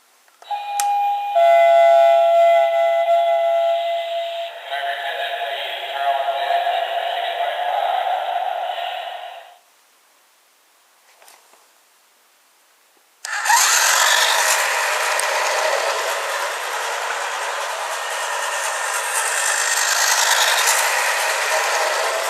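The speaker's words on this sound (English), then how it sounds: "The very first run of the bullet train." White toy bullet train set running on its track, a steady mechanical whir and buzz with a brief near-silent pause before the motor starts again louder and continues, close and alone.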